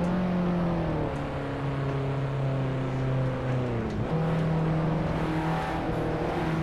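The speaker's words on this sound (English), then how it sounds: "This this car is very, very fun to drive." Engine of a classic Alpine A110 driven in a motion-simulator racing game, holding a steady harmonic drone with a few gear-shift dips and pitch rises, close and continuous with no talk.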